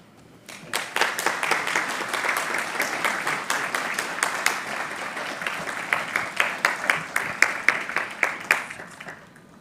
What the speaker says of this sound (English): Let's have another round of applause for Dr. Smith-Ellis.